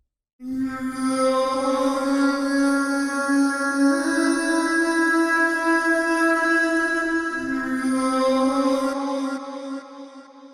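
Kawahiva, a shamanic voice melody patch from a Pigments sound bank, plays as a sustained sung tone rich in harmonics. It shifts note partway through and holds steady for about nine seconds before fading out, heard alone.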